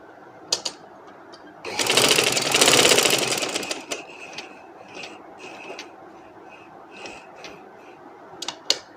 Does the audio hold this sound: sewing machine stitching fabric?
yes